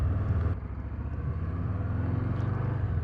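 A 2024 Harley-Davidson Low Rider ST motorcycle pulls away, its engine a steady, loud low rumble with a brief lift in revs near the start, close by and with no voices.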